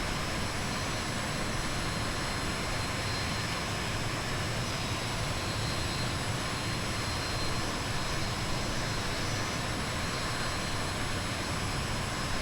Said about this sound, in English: Waiting for the engine to rev up.